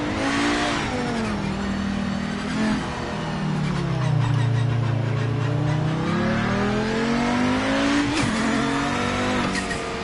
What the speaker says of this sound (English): Oh, listen to the turbo